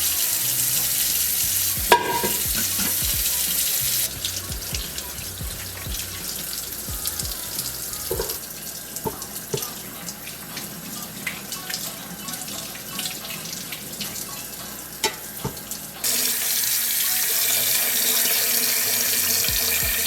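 Tap water pours steadily into a kitchen sink while tomatillos are washed, with a continuous hiss that briefly quiets and changes tone partway through, and scattered knocks and splashes from handling the fruit.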